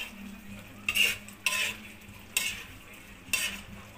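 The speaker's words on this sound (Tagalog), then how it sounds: "Haluin na natin guys ito." A utensil scrapes through chicken afritada in a frying pan in four distinct stirring strokes, each a short, bright scrape over a faint, low simmer. The sound is soft and fairly close, with no talking.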